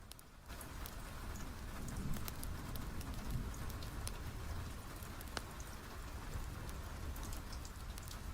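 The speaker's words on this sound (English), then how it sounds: "The endless rain continued its gentle song, soft upon the ancient balcony" Gentle, steady rain falls in a soft, even patter with scattered drop ticks, fairly quiet and continuous with no voices.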